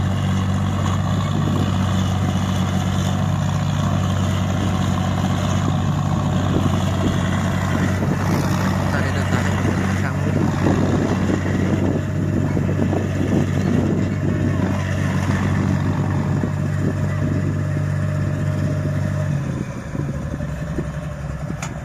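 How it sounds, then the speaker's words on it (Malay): A tractor engine drones loud and steady while pulling a rice harvester stuck at the edge of a paddy field bund from behind, a continuous low rumble with faint voices, easing off slightly near the end. "Traktor dia cuba tarik dah daripada belakang tu lah."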